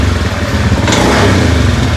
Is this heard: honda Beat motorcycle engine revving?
yes